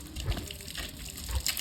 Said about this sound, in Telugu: ఏ ట్యాంక్ నిండింది వాటర్ వస్తున్నాయి